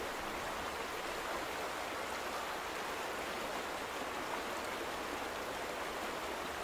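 Water flows without a break in The Vanishing of Ethan Carter, a steady rushing wash like a stream or running tap. It holds at an even, moderate level throughout with no voices.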